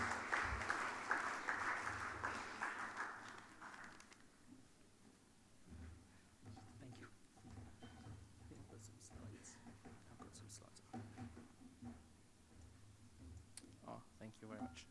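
Audience applause at an international tax conference in Dubai, a loud burst of clapping at the start that fades into scattered faint claps and soft room murmur.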